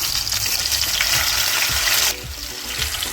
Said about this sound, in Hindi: सरसों का तेल अच्छे से गर्म हो चुका है। अब डाल देंगे टमाटर के पीसीज